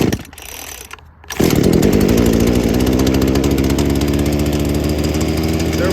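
A small 2-stroke engine is pull-started with the choke set halfway. After a couple of quieter pulls it catches with a sudden loud roar, then runs at a steady, buzzing, high idle.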